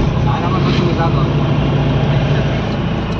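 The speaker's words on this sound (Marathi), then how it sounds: "गणपतीपुळेवरून सोडलेली गाडी सोडली आहे." A car's engine running steadily near Are Ware beach in Ratnagiri, a constant low rumbling drone with a broadband whoosh, close and continuous without clear breaks.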